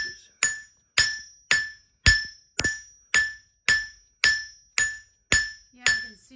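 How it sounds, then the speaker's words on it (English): A hammer strikes a hot metal leaf on an anvil at a forge, about a dozen sharp ringing blows at a steady, even pace, each clang decaying quickly before the next, close and loud with no talking. "flattening it off, rolling the hammer over, and spreading it, and staying in the center,"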